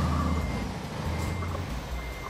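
A truck in the Euro Truck Simulator 2 video game reverses while parking, its steady repeating backup beeps sounding over a low engine hum, with no talking.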